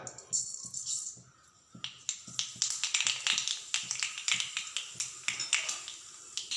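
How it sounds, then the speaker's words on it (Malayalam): Mustard seeds pop in a spoonful of hot oil in a pan, giving rapid, irregular sharp crackles and snaps close to the microphone that grow denser over several seconds. "കടുക് പൊട്ടി വരുമ്പോൾ"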